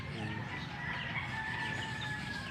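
Backyard chickens, a hen and a rooster, clucking and calling continuously at close range, with a drawn-out crowing tone running through the short stretch over steady outdoor noise.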